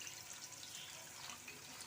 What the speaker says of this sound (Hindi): अब हम इसको करेंगे फ्रेश पानी के साथ वॉश।